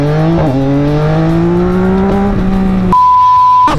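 A Yamaha XSR motorcycle engine pulls hard up through the revs with a quick gear change early on. It is loud and close, then is cut off by a steady electronic beep.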